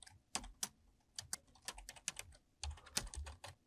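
Keys clatter on a computer keyboard as a Linux iptables command is typed, in quick irregular bursts of close, crisp clicks with brief pauses and no voices.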